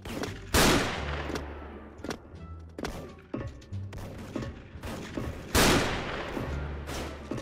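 An M82 Barrett sniper rifle fired in a shooting video game: heavy, booming single shots spaced a few seconds apart, each followed by a ringing tail, with smaller thuds and clatter between them.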